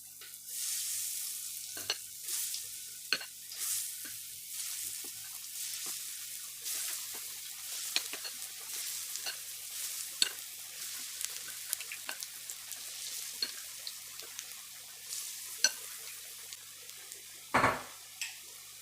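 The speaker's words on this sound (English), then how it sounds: "It's hot enough for frying when it makes a sizzling noise like this." Bean paste for akara fries in hot oil with a quiet, continuous sizzle dotted with small pops and crackles, and one sharper clatter near the end.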